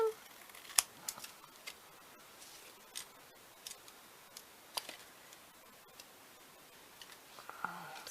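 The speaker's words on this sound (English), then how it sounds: "now let's trim off the excess on this one" Scissors trimming excess from a layered, embossed craft card made with dies, giving small crisp snips at an irregular pace, close and fairly quiet, with no talking.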